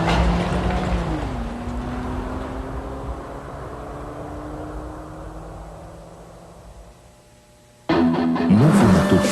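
Car fitted with a Volkswagen 1.0 16-valve 76-horsepower engine driving past, a steady engine drone that rises in pitch, fades away, then cuts abruptly to a louder burst of engine noise.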